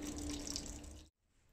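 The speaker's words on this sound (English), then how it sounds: "Now I'm just transferring it through the hop spider into the fermenter." Beer wort for an English brown porter streams through a hop spider into a fermenter, a steady close splashing pour that stops abruptly near the end.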